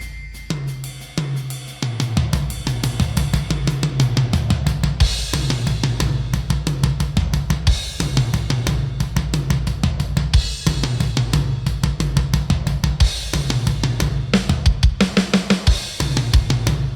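A Hertz drums virtual drum kit plays within a full music mix, punchy kick and snare hits with bright cymbals in a steady groove, lively and big-sounding with reverb, loud and continuous, no voice.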